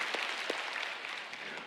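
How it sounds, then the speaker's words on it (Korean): A church congregation claps together during a worship service, a dense, steady patter of many hands heard from a distance at a fairly low level. "우리 감사의 박수 한번 올려드렸으면 좋겠습니다."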